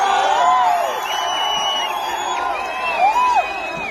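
An outdoor crowd at a Gilli Nata appearance in Chikka Tirupathi cheers, with long rising and falling whoops and shouts layered over a steady background roar.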